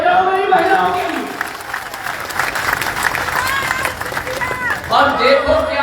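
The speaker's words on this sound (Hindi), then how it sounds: "अरे तालियां बजाओ मेरी महिलाओं के लिए" A large crowd at an open-air public rally in Gwalior applauds together, steady loud clapping mixed with shouting and cheering, with a speaker's voice running over it.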